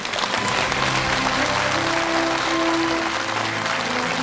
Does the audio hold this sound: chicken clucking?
no